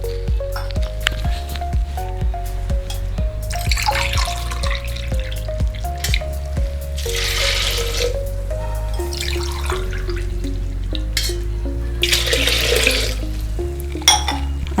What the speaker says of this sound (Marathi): तर यात आपण 2 ग्लास पाणी ॲड करणार आहोत